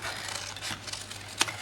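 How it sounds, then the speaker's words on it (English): Scissors cut across a cardstock paper flap for a lidded trapezoid box, a close, soft rasping snip ending in one sharper click. "Okay, the next flap we are going to cut off"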